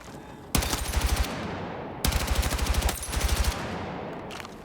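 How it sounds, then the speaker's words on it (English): An M27 rifle fires on the firing range in Battlefield 6 in two loud bursts of rapid automatic shots, each followed by a short echoing decay before a final faint shot. "Let me bring this to the firing range. This is the M27 one I have."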